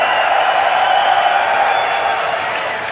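A large crowd cheering and roaring continuously at a European League of Legends esports match, a dense wash of voices that tapers off slightly.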